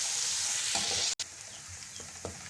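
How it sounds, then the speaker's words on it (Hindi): Garlic and ginger fry with browning onions in a pan for moti pulao. A moderate, even sizzle carries on steadily, with a brief dropout partway through and soft stirring knocks afterward. "अब हम इसके अंदर अपना जो लहसुन अदरक है उसको ऐड कर देंगे और इसको भी थोड़ी देर फ्राई करेंगे साथ।"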